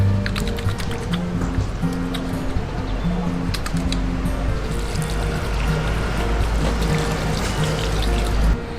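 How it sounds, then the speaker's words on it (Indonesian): Running water pours from a tap as hands are washed at an outdoor washing station before entering a mosque, a steady close gush with background murmur and faint tonal hum. "Ayo kita cuci tangan dulu."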